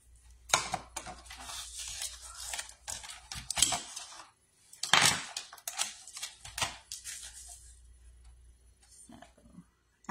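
Scrapbook paper is cut down to size in a crafting session, giving a run of crisp, close snips and rustles, with a dense burst midway and quieter scraping toward the end.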